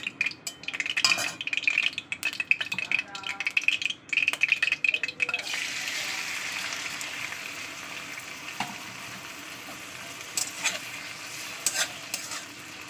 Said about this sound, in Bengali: এবার আমি চিংড়িটাকে দিয়ে দেবো